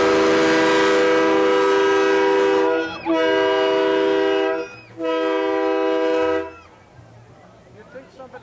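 Air horns blow at a Christmas parade in three long, loud, steady blasts, the first the longest, each separated by brief gaps before the sound falls away to faint street noise.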